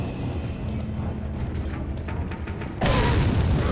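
A grenade goes off in Resident Evil 4 with a sudden loud, deep blast near the end, following a low rumbling stretch of game noise.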